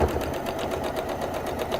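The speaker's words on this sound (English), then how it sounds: "you probably can hear the sewing machine as it goes over these seams a little bit, that it's working a little harder" A sewing machine stitches steadily through thick seams on a zipper pouch, its rapid, even mechanical whirr and needle rhythm close and continuous throughout.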